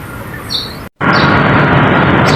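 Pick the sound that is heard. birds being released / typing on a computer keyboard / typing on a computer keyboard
birds being released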